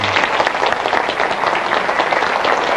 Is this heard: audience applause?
yes